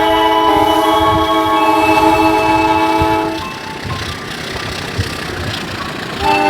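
A vintage locomotive in the Trainz Simulator game, its steady engine rumble and sustained horn-like tones close and loud, then the tones cut off, leaving a rolling rail rumble, with a brief rise again at the end.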